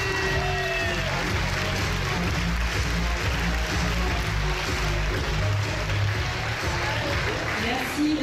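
Thunderous applause from an event crowd welcoming La Rochelle's first deputy mayor at the Miss Poitou-Charentes 2017 election, a dense, sustained roar of clapping that fills the hall over low background music.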